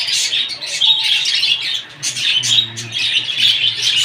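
Many munia birds chatter and chirp continuously at close range while eating paddy, high thin calls overlapping in a busy, steady chorus.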